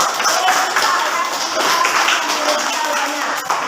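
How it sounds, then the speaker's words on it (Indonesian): A classroom group claps together for a student's presentation in a linear programming lesson, a steady dense patter lasting the whole stretch. "tepuk tangan dulu untuk"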